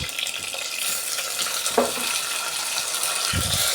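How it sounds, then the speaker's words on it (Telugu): Chopped tomato pieces go into a frying pan and are stirred, producing a steady hiss of sizzling oil with a few soft scraping stirs and a light clatter close by, without anyone talking. "ఇప్పుడు ఇందులో మనం కట్ చేసుకున్న టమోటా ముక్కలు వేసేసుకుందాం"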